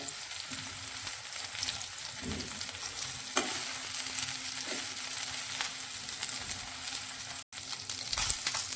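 Paneer pieces fry golden in a pan over a medium-high gas flame, giving a steady, close crackling sizzle with occasional stirring clinks and no voices.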